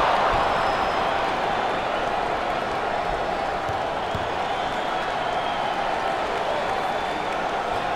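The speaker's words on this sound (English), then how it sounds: "Listen to this crowd." A basketball crowd at a 2024 NIT round of 32 game between Richmond and Virginia Tech roars with steady cheering and applause, a dense continuous wash of noise filling the arena.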